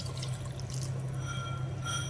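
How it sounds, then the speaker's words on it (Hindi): Half a cup of water poured into a cooking pot of rosh gosht, a steady near liquid pour over a constant low kitchen hum. "1/2 cup जो पानी है मैं ये ऐड कर रही हूँ इसके अंदर"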